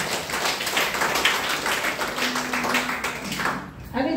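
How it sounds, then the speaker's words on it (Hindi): Loud applause from an event audience in a hall, a dense wash of clapping that runs steadily for several seconds with voices mixed in underneath. "फिर से डीएक्शन के लिए जोरदार ताली बजाएं।"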